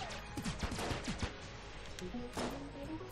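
Rapid AK-47 fire in Enter the Gungeon rattles out in quick bursts at moderate volume, with short pauses between strings of shots.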